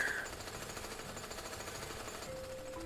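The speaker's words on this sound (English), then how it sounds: "some of the ambient sound effects, like the drilling right there" Ambient drilling in the Jak & Daxter game rattles as a steady, fast mechanical chatter at moderate distance, continuous under a faint tonal hum with no talk.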